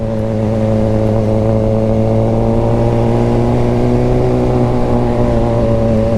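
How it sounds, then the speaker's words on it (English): A Suzuki GSXR 600 motorcycle engine runs close and loud in traffic, holding a steady, strongly tonal drone with a slight rise in pitch as it revs, continuous with no voices. "Bro, this bike has such a high rev limit."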